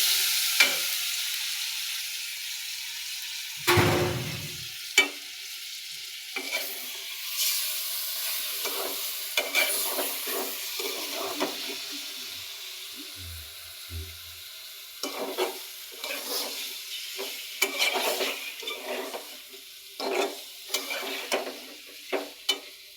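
Loitta fish frying in spices while being stirred, a low sizzle beneath repeated scraping and clanking of a spoon against the pan, irregular and close, no speech.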